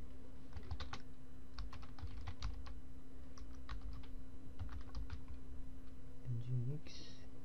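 Someone types on a computer keyboard while configuring an Ubuntu server, producing irregular bursts of close, crisp key clicks over a low steady hum, with a brief voice at the very end.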